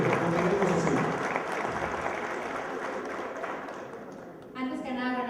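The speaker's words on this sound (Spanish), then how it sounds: "El aplauso, por favor, para ella. Fuertes aplausos." Audience applause at a formal event fills the room as a steady clapping wash, with a voice speaking over it near the end.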